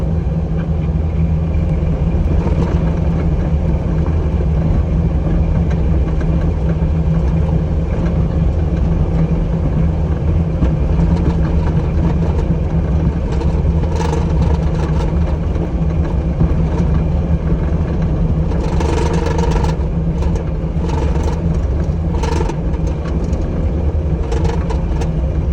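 A new Bobcat T870 loader with a rake-n-ator attachment grades a gravel driveway, its diesel engine rumbling loud and steady throughout, with bursts of scraping gravel and clatter in the later part.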